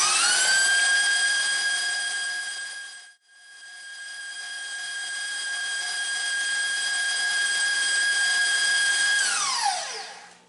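An electric stand mixer whines steadily on high while whipping Swiss meringue buttercream, a loud sustained motor tone with one brief dip before it spins down at the end.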